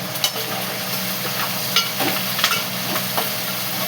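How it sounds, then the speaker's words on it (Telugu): Green chillies, onions and tomato frying in a pan, a steady close sizzle with light stirring scrapes and small pops throughout. "పచ్చిమిరపకాయలు ఆనియన్స్ వేసేసుకున్నాం. అవి కొంచెం వేగాక మగ్గాక అప్పుడు టమాటా వేసుకున్నాం."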